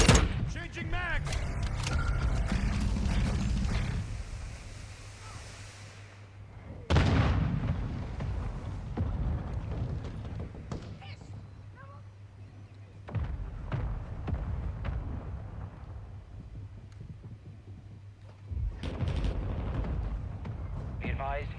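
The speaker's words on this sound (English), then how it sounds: "Hostile mortar strike incoming." Heavy mortar strike explosions in Call of Duty Modern Warfare II, repeated deep booms rolling in every few seconds amid battle noise, with radio voices talking throughout.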